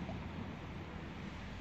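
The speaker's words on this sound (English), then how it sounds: "Oh, it's terrible, look how much water's coming." Floodwater rushes out near a depot on a dry day, a constant broadband roar of flowing water with wind buffeting the microphone, steady and unbroken with no voices.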